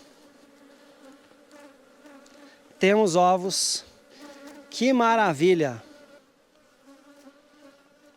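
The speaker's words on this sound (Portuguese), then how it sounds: "Temos abelhas." Bees swarming around a populous hive box buzz as a steady low hum beneath two louder bursts of talk.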